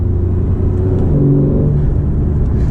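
A Porsche 991.1 Carrera engine revs while its automatic gearbox holds the gear, a loud close cabin drone with a rising and falling engine note over steady road rumble.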